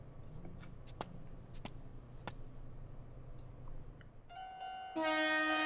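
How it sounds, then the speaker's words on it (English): A train passing a blocked railway crossing in the Spirit Hunter: NG video game, first a low rumble with faint clatter and bell-like pings, then a loud sustained tonal horn blast rising near the end. "Oh hey, a train."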